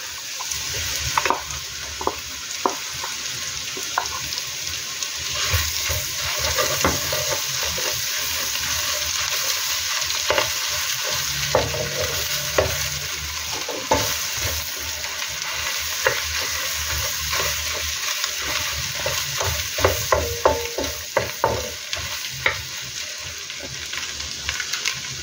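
Salted egg fries with onion and garlic in a pan for salted egg shrimp, a loud continuous sizzle broken by repeated scraping and stirring strokes of a utensil, with no voices.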